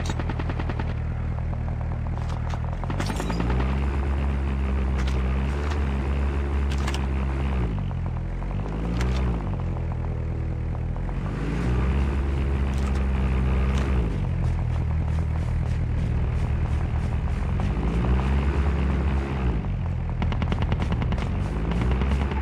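Call of Duty gameplay with an airdrop plane passing overhead: a loud, steady droning engine roar with rising and falling pitch sweeps, mixed with bursts of gunfire, continuous throughout.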